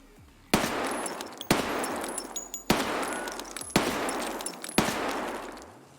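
Five loud, evenly spaced UMP gunshots from Escape from Tarkov ring out about a second apart, each a sharp crack trailed by a long echoing decay, with no talk.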